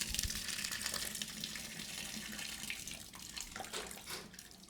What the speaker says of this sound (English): So the rest of the boiling water from the kettle could go in now.